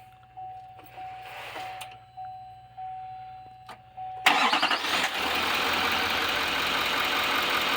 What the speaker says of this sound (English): You may have to start the truck up for a minute, John.